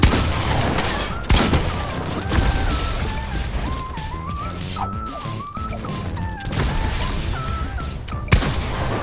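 Rapid bursts of gunfire from the video game Fortnite, with sharp cracks and repeated volleys mixed into a busy layer of tonal game sounds, steady and loud throughout.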